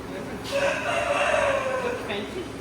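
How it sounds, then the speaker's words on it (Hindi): A rooster crows once, fairly close and clear, over low background noise. "ये मुर्गा किधर से बोलने लग गई है।"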